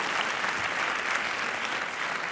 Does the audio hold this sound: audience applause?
yes